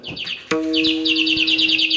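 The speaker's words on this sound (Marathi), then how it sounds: "पक्ष्यांचा आवाज यायला लागला." Birds chirp in quick repeated high tweets over a sustained tonal hum, with a sharp click partway through.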